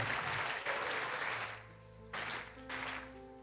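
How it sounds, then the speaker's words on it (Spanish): A church congregation applauds during a sermon; dense clapping fills the first moments, then thins and fades beneath sustained tonal sounds, with brief renewed bursts of clapping near the end. "si ese aplauso es para Dios, dérselo de verdad."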